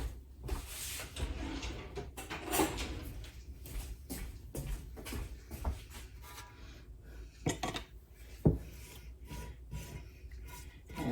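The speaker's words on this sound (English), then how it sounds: "I'm gonna get a little scraper and get the rest of that goodness out of that pan" A small scraper drags around a pan to clear out leftover enchilada sauce, producing uneven rubbing scrapes and light metallic knocks, close and moderately quiet, with no talking.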